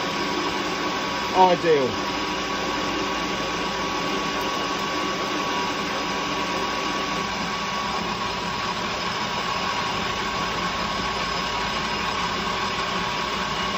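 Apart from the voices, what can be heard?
metal lathe cutting at full load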